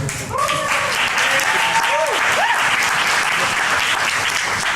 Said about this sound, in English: So give a round of applause to Matt Lavoie.